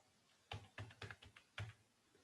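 A run of five or six distinct keystrokes on a computer keyboard while Python code is entered, fairly close and quiet, separated by short pauses with no talk.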